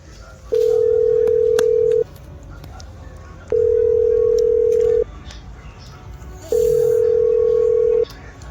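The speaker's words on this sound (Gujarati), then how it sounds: "પેલા રાજવીરને ફોન કરવા દેજો." A telephone call being placed: three long, steady ringback tones sound at even intervals over faint background noise, with no voices.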